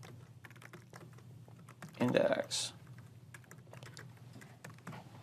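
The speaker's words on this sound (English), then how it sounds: "A lot of typing, but we don't want to hide anything from you." Soft, rapid keystrokes patter on a computer keyboard while a person works through ASP.NET Core code, with a brief louder burst of clacking in the middle and a single spoken word.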